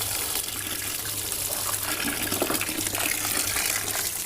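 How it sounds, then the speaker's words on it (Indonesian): Tap water pours continuously over a disassembled Pioneer CDJ-2000 DJ player to rinse it after soaking and scrubbing in soapy water. The splashing hiss is loud, close and steady, with no talking. "dibilas dengan air keran."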